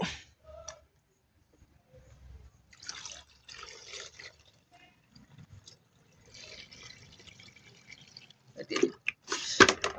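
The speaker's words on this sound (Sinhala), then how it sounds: "තව වතුර ටිකක් දාගමු" Water is poured into an arowana pond in short bursts of splashing and dripping, quiet and intermittent with pauses between pours and a louder gush near the end.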